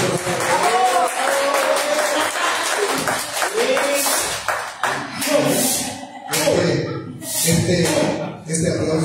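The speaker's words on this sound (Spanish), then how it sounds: "Este aplauso espontáneo que te dice la estima que se te tiene." Spontaneous applause breaks out from an audience at a ninth-anniversary poetry day event, rising in loose bursts of clapping beneath a speaker's continuing voice.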